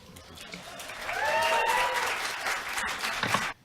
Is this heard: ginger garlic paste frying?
no